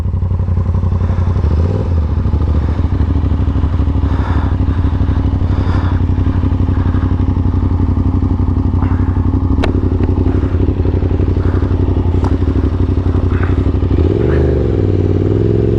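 Motorcycle held in second gear during wheelie practice, engine droning loud and steady with clattering and scraping, a brief rev rise near the end.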